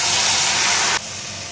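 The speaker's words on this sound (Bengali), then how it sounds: "এবার পটল বাটাটা ঢেলে দেবো, রসুন আর কাঁচা লঙ্কা পেস্টটা করে নিয়েছি" Pointed gourd paste hits hot oil in a pan and sizzles with a loud, steady hiss that drops suddenly to a quieter sputter about a second in. Close up, with no talking.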